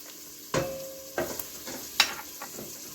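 Onion, garlic and chopped vegetables for broccoli soup sauté in a pot, giving a soft low sizzle with a few distinct spoon scrapes and taps, quiet and close, with no voices.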